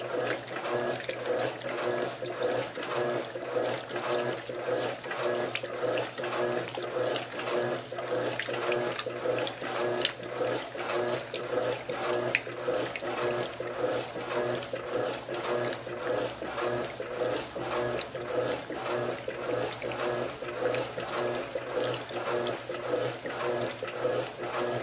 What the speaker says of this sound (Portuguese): esse é o primeiro enxágue, eu estou fazendo no nível edredom para vocês verem até onde chega a água